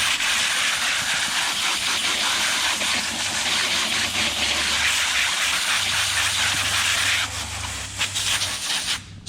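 Steady, loud spray of water rinsing cleaner off a surface, a continuous broadband hiss running alone for most of the stretch before easing off briefly near the end.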